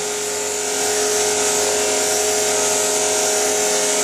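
A motor-driven buffing wheel polishes a handmade pen with polishing compound, giving a loud, steady whirring hum that holds an even pitch throughout without pauses.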